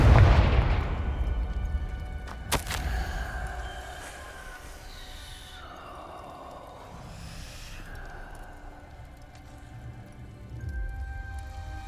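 Confringo blasting spell in Hogwarts Legacy: a deep boom opens, followed by a sharp crack, lingering magical whooshes and rumble, then another low blast near the end.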